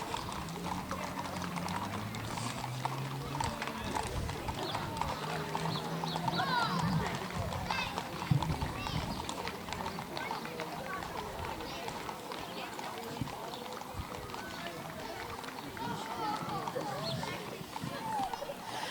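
Horses clip-clopping along a parade route in the West Virginia hills during a horse and carriage parade, many overlapping hoofbeats in a continuous clattering rhythm, with a voice talking over them and occasional crowd sounds.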